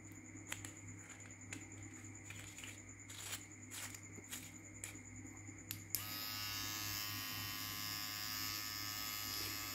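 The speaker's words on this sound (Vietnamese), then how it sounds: "Cạo lông tay này." A battery-powered electric shaver is tapped and brushed across an arm to shave hair, giving a steady buzzing drone with repeated clicks before the motor settles into a louder, even whir.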